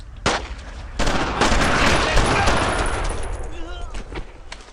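Sustained suppressive gunfire in the World War II shooter Brothers in Arms: Road to Hill 30, during the Utah Beach assault: loud, dense bursts of rifle and machine-gun fire overlapping for several seconds, with sharp individual cracks breaking through.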